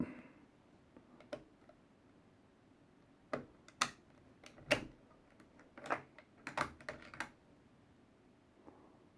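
Someone slides the bolt out of a rusty rifle. The result is a handful of faint, scattered metallic clicks and scrapes in a quiet room.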